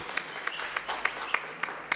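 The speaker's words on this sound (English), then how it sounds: "a round of applause for Ndade Jimmy." Clapping at a Black Excellence cocktail mixer event: a short, quiet run of evenly spaced claps, about seven sharp hand slaps in steady rhythm over a soft room background.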